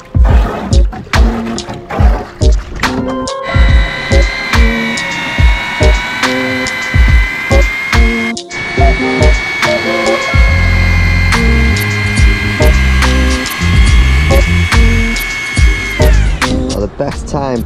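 A mixer churns sand and cement scratch-coat render mixed four to one, a steady loud mechanical whine that runs for several seconds and then stops, with scraping, knocks and clatter around it.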